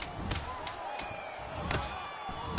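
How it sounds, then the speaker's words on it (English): Ground-and-pound punches landing in a UFC 4 video game fight, a series of sharp slapping thuds spaced irregularly over crowd murmur and faint commentary. "Pretty good work with the ground and pound here by Holloway."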